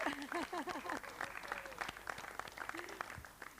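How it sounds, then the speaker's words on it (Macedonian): Audience applause after a Macedonian folk ensemble's performance, a steady wash of clapping from a crowd, fairly faint and distant, with a voice speaking over it. "Се разбира аплауз."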